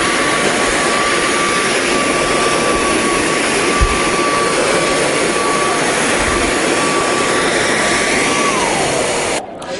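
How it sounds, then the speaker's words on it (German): Vibradaster vacuum cleaner fitted with an extra suction tube runs at a trade fair, a loud, steady, even whine and rushing hiss that holds throughout and cuts out at the very end. "Das hier ist noch ein zusätzliches Saugrohr, das kleine Partikel oder Büroklammern absaugen kann."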